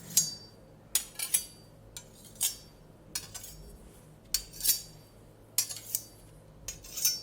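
Two metal kitchen knives clink and scrape against each other in close, crisp bursts, about eight separate ringing contacts spaced irregularly over a quiet background with no talk.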